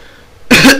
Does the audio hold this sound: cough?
yes